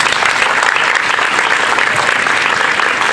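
Strong, dense applause from an audience at an evening ceremony, loud and close, a steady wash of many hands clapping with no break and no voices on top.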